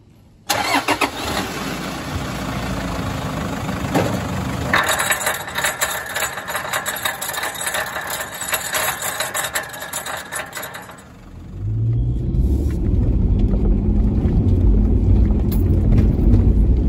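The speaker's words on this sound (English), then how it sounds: "All right, here we are, engine running." A car engine runs with a busy, mid-pitched mechanical clatter for about eleven seconds. It then dips briefly and settles into a deeper, steady low rumble after drive is selected, and it sounds not quite right.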